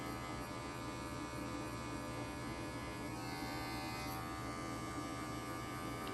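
Electric hair clippers fitted with a full-length guard, trimming hair in a steady close-up buzz that holds evenly throughout, with no talking.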